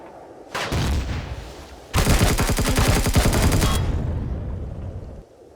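Gunfire and explosions erupt in the space video game Empyrion Eden Reforged, an opening blast followed by a loud, rapid stretch of automatic fire that rattles for nearly two seconds before fading into a rumbling tail.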